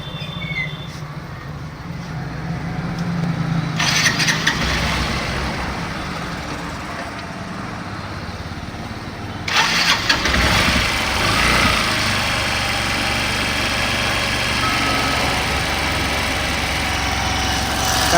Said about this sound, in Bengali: একবারে মাখনের মতো ইঞ্জিনের সাউন্ডটা হয়েছে